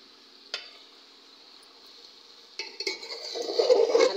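Fried potatoes, Malabar spinach and lentils being stir-fried in a pot for a khichuri. A faint sizzle and one early knock give way to louder, busier scraping and clinking of a spoon against the pan.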